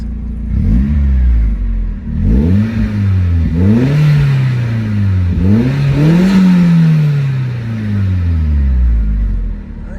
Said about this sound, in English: we give it a couple revs for you guys to hear the engine